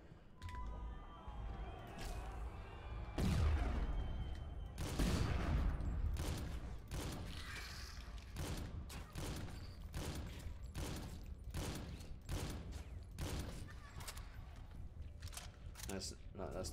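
Gunfire in a video game comes as a long run of sharp, repeated shots, some in quick clusters and others spaced apart, with someone talking intermittently over the shooting.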